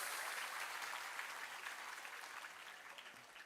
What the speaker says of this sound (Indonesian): tepuk tangan dulu untuk santri tambak beras